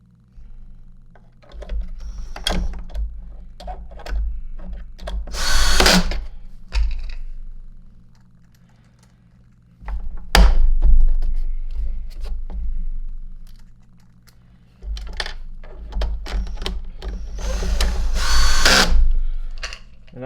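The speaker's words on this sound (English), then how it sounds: "So now let's put the rest of the screws in this little number here." Power drill driving screws into a Miele S5 Capricorn canister vacuum cleaner during repair, several separate close bursts of whirring and ratcheting with quiet handling gaps between them.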